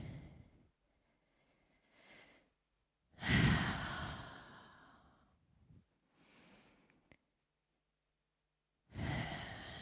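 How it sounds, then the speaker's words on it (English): Deep breathing during a movement exercise: slow, heavy breaths drawn in and let out, with a strong sighing exhale, softer breaths between, and a last full breath near the end, close and quiet with nothing else heard. "Taking a couple deep breaths right there."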